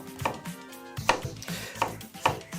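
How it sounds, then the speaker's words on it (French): A knife cuts a small zucchini into bevelled pieces on a board, several crisp chopping knocks in an uneven rhythm, close and clear, with soft kitchen clatter between the strokes. "J'ai une petite courgette comme ça que je taille en petits biseaux"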